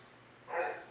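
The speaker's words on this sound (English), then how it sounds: "Don't mind the dogs barking." A single short dog bark, fairly faint and distant, rises briefly in the middle of an otherwise quiet indoor room tone.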